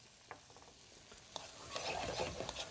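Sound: stirring sherry into sizzling pan for corn soup

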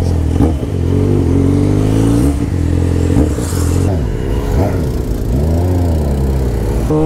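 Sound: Yamaha XJ6 motorcycle engine revving

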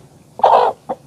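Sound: hen clucking in a coop

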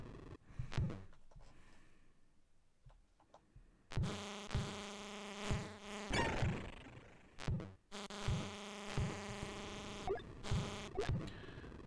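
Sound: buzzing bees in Commodore 64 game Heatseeker

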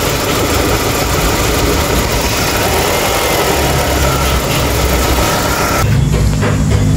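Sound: Renault engine idling unstably with injector fault

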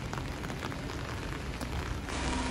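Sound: rain falling in Kyoto street

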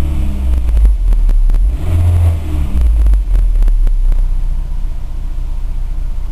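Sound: VW 2.0L Golf Cabrio engine starting and revving

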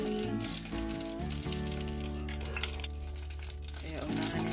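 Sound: garlic sautéing in a pan

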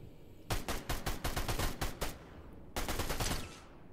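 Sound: gunshots in a video game

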